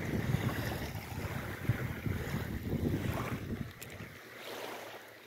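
Gentle lapping of calm sea water in Skagit Bay, soft irregular sloshes under light wind buffeting on the microphone, close by and fading slightly near the end, with no voices.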